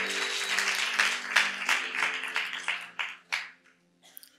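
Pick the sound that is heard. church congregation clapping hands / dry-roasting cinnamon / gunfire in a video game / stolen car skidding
church congregation clapping hands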